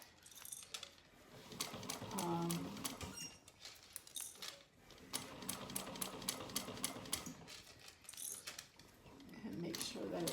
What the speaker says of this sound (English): it'll sew right along this previous stitching at 1/8 of an inch